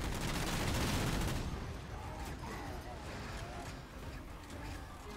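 Automated turrets in Halo 4 firing on enemies, a dense rattling burst of gunfire that is loud at first, then thins into scattered distant shots under game ambience.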